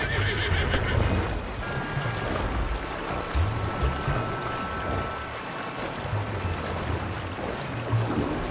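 Horses neigh and whinny in Red Dead Redemption 2, with several high, wavering calls over a rushing river-like background and occasional low thuds of movement.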